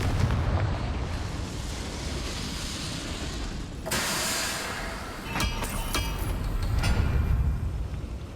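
Confringo fire spell blasts in the Hogwarts Legacy video game: a rumbling roar with a sharp burst near the middle, then several crackling impacts, heard alone.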